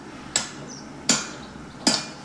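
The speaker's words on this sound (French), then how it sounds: "Les deux éléments sont ensuite encastrés à coups de marteau afin de créer une liaison entre les atomes des métaux." Hammer blows on iron and steel being forge-welded together after heating to 1200 degrees: three sharp, ringing strikes at an even, unhurried pace, loud and close, with no talking.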